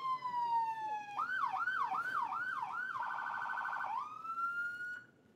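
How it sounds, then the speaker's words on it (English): A police car siren at a National Night Out event switches on with a rising wail, shifts into a rapid yelp, then a fast warble before settling back and cutting off, loud and close, with no talking over it. "How about the siren? Push that button."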